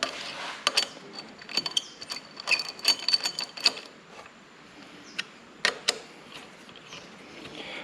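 Bolts being tightened while a steering damper is fitted to a Kawasaki Z800 motorcycle: irregular bursts of close, bright ratchet clicks and small metallic taps, with quiet pauses between, and no talking.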